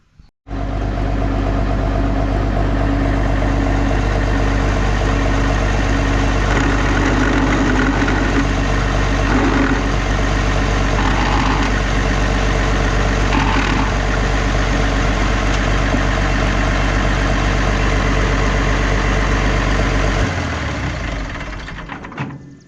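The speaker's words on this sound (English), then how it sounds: "I think I'm gonna start the tractor now and just see what happens" A Farmall tractor engine with clutch problems idles loudly and steadily nearby with a deep, rumbling drone, then cuts off abruptly at the end.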